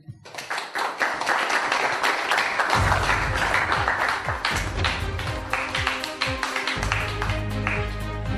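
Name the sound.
audience applause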